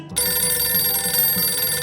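A telephone rings in the video game Stroke of Fate, a bright electronic ring that starts abruptly and repeats in quick, steady pulses, loud and close with no voices.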